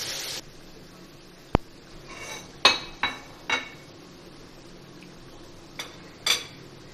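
A lightweight non-stick spoon knocks and scrapes against a pot while cooking chicken aloo biryani, a handful of separate clinks and taps spaced irregularly over a quiet kitchen background.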